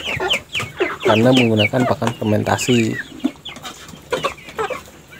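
Free-range village chickens in a coop, fed fermented tofu dregs, cluck close by in short bursts while someone talks over them.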